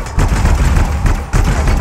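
Sci-fi weapons fire during combat in the game Anthem on PC: dense, rapid bursts of gunfire, loud and continuous with a short dip midway, with a voice speaking in the background.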